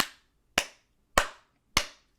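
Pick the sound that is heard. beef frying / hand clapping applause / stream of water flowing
hand clapping applause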